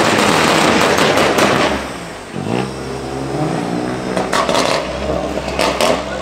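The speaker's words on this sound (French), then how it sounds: "Il y a eu un petit concours sonore entre la 135i et la voiture de rallye." A Lancia Stratos rally car and a BMW 135i rev their engines, with loud crackling pops and bangs like gunfire, a rising rev around the middle, and rough, close, powerful exhaust noise throughout.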